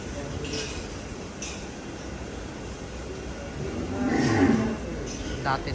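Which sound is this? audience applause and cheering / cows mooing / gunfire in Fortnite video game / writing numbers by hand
cows mooing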